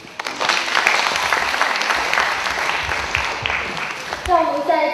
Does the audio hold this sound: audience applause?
yes